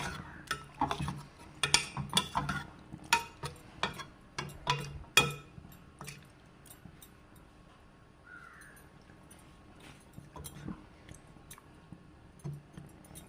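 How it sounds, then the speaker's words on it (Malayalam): Cooked dal being stirred into a curry in a kitchen pot, with a spoon knocking and scraping the metal in quick bursts early on, then quieter slow mixing, no talking. "ഇനി നമുക്ക് വേവിച്ച് വെച്ചിരിക്കുന്ന പരിപ്പ് അതിലേക്ക് ഇട്ട് കൊടുക്കാം നമുക്ക് ഇവനെ നന്നായിട്ട് മിക്സ് ചെയ്ത് കൊടുക്കാം"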